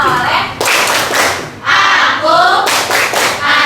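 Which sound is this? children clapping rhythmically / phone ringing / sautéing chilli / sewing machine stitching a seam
children clapping rhythmically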